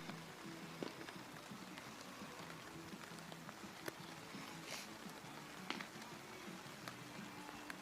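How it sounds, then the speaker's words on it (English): Light rain falls during an outdoor college baseball game, a faint steady patter with scattered drops across the whole stretch. "Now the rain is picking up just a little bit again"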